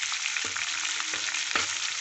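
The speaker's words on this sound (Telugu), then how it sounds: "అల్లం ముక్కలు కూడా వేసుకుందాం." Ginger pieces frying in a hot pan, with a steady broadband sizzle and a few sharper crackles and stir bumps throughout, loud and close.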